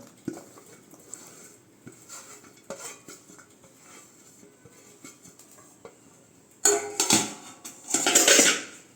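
Chopped medium onions, cut into large pieces, tumble into a bowl of gram flour batter, giving soft clinks and light thuds that turn into louder, wetter mixing bursts near the end.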